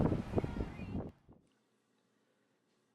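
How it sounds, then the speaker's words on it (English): Loud gusty wind buffets the microphone for about a second, then drops away to near silence with faint background hiss. "I apologize for it being so windy"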